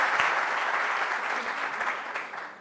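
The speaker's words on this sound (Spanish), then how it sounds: "Un primer aplauso." An audience at a university technology talk applauds, a full, sustained round of clapping that fades slightly toward the end.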